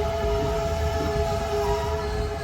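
Train standing at a station in Sri Lanka, a steady mechanical drone with a sustained tonal hum, idling evenly throughout, with no talk.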